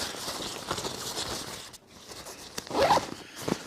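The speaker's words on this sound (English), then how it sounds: "zip this guy up" A backpack zipper pulled closed in a few quick, close rasping strokes with brief pauses between them, fairly quiet and with no talking.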